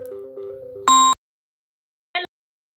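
Phone ringtone chiming during a casual conversation, a loud harmonic burst of about a quarter second followed by a shorter, fainter electronic chirp after a pause, with a steady tonal hum before it.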